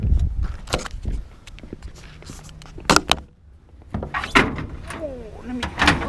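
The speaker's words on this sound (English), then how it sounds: "let me get the door down" An old door is taken down on a construction job, with a run of clunks, sharp bangs and scraping rattles over several seconds and a brief pause in the middle. A voice is heard briefly.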